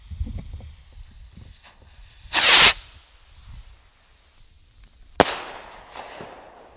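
A gold-top consumer firework from Speed of Light going off outdoors, a loud sustained fizzing burst followed a few seconds later by a sharp crack with trailing crackle, amid quiet background rustles.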